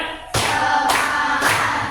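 A class of pupils in a religious education lesson claps in unison on a spoken count: three loud, evenly spaced group claps, each ringing on briefly in the classroom.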